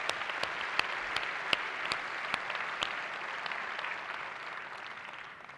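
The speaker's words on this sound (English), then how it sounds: "you deserve a big round of applause for making this happen" Audience applause fills a hall at a national charter schools conference kickoff, a steady, dense wash of clapping with a few sharper claps standing out, tapering slightly toward the end.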